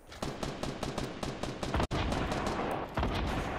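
Gunfire rattles in a Fortnite match, a rapid string of loud sharp shots with a brief gap midway, then resuming, close and dominant with no talking.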